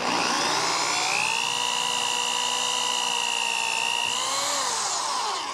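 A drill bores through aluminum C-channel on a 2000 Coachmen Sportscoach 380 MBS RV, a steady high whine held loud and close for several seconds, then dipping as the bit breaks through, with no talk.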